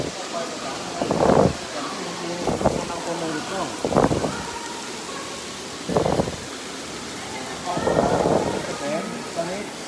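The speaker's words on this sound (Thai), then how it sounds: "ตอนนี้ฝนตกหนักนะครับ" Heavy rain pours down steadily in Nan province, Thailand, a dense, constant hiss that runs through the whole stretch while someone speaks in short bursts over it.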